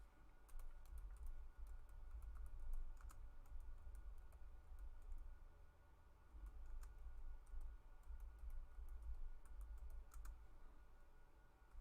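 Quiet clicking of a computer keyboard, with scattered bursts of keystrokes over a low steady hum.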